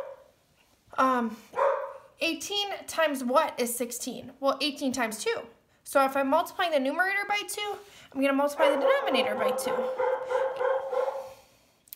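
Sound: dog barking

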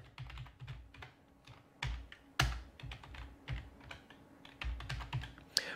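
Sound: typing on a computer keyboard

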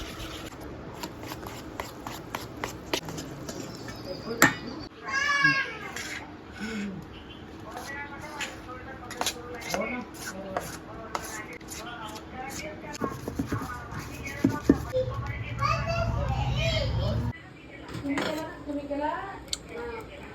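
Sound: mixing mango cake batter with milk powder and semolina

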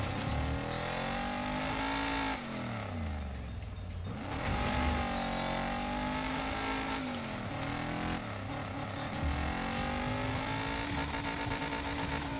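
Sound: car driving and skidding in the video game Dirt 5

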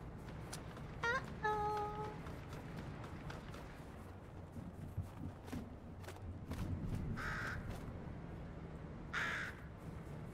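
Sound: crow cawing in Fortnite video game

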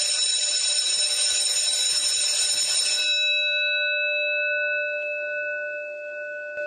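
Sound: school bell ringing

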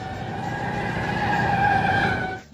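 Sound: screeching car brakes

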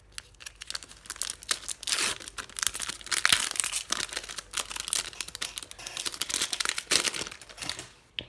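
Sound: tearing open a Pokémon Fates Collide booster pack wrapper

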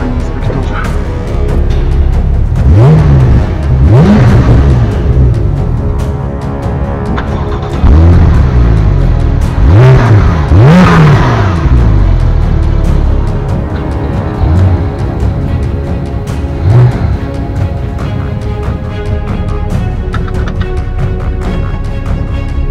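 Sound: Porsche 911 Turbo engine accelerating in a chase

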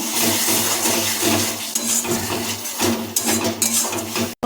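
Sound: stirring spice paste in pan with spatula

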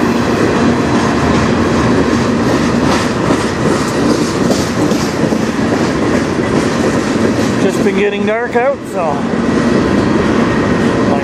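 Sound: CN freight train passing on railway line

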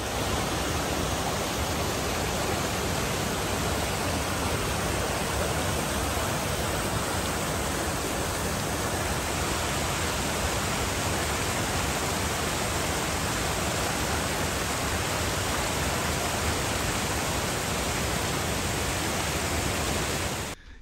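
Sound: waterfall rushing water in the Amazon

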